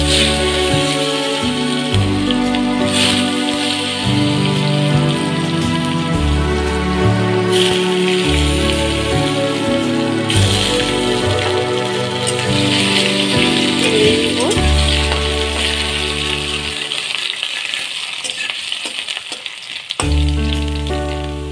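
Potato pieces frying in oil for a Bengali motor dal kofta dish give a steady crackling sizzle close by, with background music playing loudly over it throughout.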